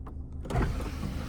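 An electric motor whirs as a car sunroof moves, a steady mechanical hum that rises in strength midway through, near and clear with no talk.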